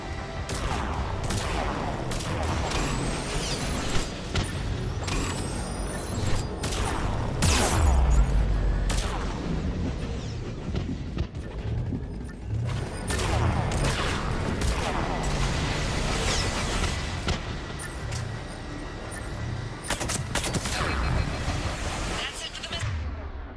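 Rapid gunfire and heavy salvo shots rattle and boom continuously in a Mass Effect 3 battle scene, dense and layered with explosions, while voices talk over the combat.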